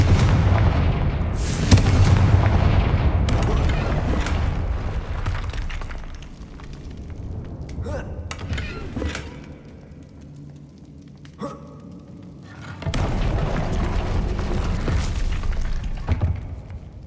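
Confringo spell explosions in Hogwarts Legacy boom loudly at the start and again near the end, with rumbling blasts and quieter crackling impacts in between.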